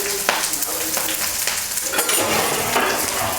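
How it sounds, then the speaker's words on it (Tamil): Onion, green chili and curry leaves sautéing with chana dal in hot oil, a steady close sizzle broken by scrapes and stirs of a spatula against the pan. "வெங்காயம், பச்சை மிளகாய், கருவேப்பிலை இதெல்லாம் ஒன்றா சேர்த்து நல்லா வதக்கிக்கலாம்"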